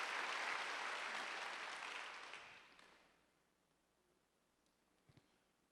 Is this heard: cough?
no